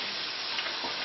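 Fries frying in a deep fryer, a steady close hiss of sizzling oil that fills the whole clip with small crackles.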